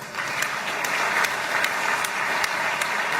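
A crowd of Israelis breaks into sustained applause, steady and dense, with many hands clapping together and a few louder claps standing out, with no talk over it.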